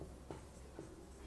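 Short scratchy strokes of writing by hand during a Bengali maths lesson on averages, two faint quick marks alone over a quiet room hiss.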